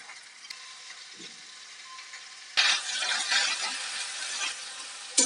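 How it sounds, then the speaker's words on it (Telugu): Kondapindi leaves dropped into a spoon of hot oil and fried, quiet at first, then a sudden louder sizzle that holds steady and close for the last few seconds. "ఇప్పుడు ఈ ఆకంతా వాడ్చుకుందాం. అంటే వేయించుకుందాం."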